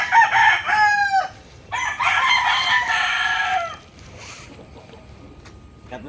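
Fighting roosters crowing close by in a backyard in Biñan, Laguna, two long cock-a-doodle-doo calls one after another, followed by quieter background noise.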